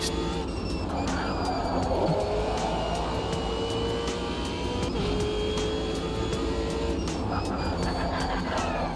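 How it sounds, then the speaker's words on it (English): A race car engine in the Automobilista 2 sim racing game drones and revs continuously at close range, its pitch rising and falling in steady waves with the car's bouncing, with no voices present. "can you hear the engine revs matching the bouncing of the car?"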